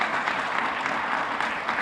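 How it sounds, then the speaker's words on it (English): Audience applause at a press briefing for the Peace and Healing Centers: steady, dense clapping from a room of people, fairly close and even throughout, with no pauses and no voices over it. "let's give Capri and the entire department another round of applause"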